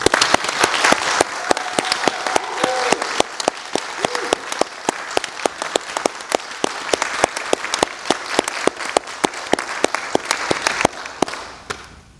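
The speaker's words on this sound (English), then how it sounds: "So if we could just take one more moment to recognize and applaud the class of" Sustained audience applause at a national student poets appointment ceremony, honoring the class of 2020 poets: dense, steady clapping from many hands for about eleven seconds before tapering off at the end.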